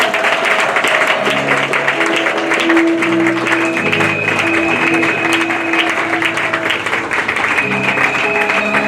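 A crowd claps at a church conference, the applause sustained and loud throughout, joined by music and singing with held tones.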